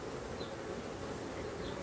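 Honey bees buzzing inside an open hive during the introduction of a new queen to the colony, a steady, even drone with no pauses and no voices.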